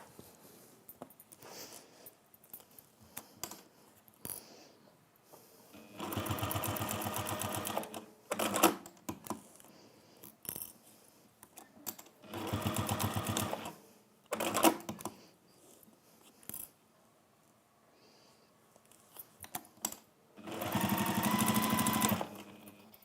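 A sewing machine basting velvet fabric in place runs in three loud sustained bursts, each a few seconds long, with quieter handling noises in the pauses between them.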